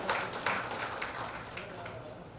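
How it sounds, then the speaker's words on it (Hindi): An audience at an award ceremony in Jhansi applauds, a crowd clapping with a few louder claps near the start, then thinning, with some voices beneath. "एक बार गुरु जी हम आप सब लोगों के लिए जोरदार तालियां बजाते हैं।"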